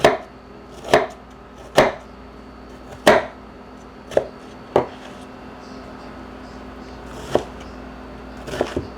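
A knife slices vegetables for marinara sauce into thin eighth-inch pieces on a cutting board, producing sharp, evenly spaced chops close by, nine or so thuds with brief pauses between.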